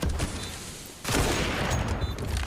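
Gunfire in Counter-Strike: Global Offensive at a pro esports match: a dense burst of rapid shots, quieter at first and then louder after a second, continuing with crackling reports.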